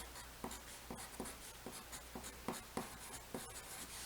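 Pen strokes writing set builder notation by hand scratch across paper in a quiet, close, rhythmic series of short scrapes and taps with no voice.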